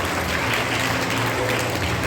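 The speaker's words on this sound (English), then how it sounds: "Give them a huge round of applause." Audience applause at a school National Sports Day event, a steady wash of clapping that fills the whole short stretch at even loudness.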